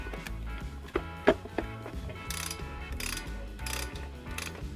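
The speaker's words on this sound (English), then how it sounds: "Alright, let's put back that tensioner." Mechanical clicks, knocks and tool contact while the timing belt tensioner goes back onto a Volvo 850 engine, a couple of sharp close metallic taps standing out over steady low workshop hum, with no talking.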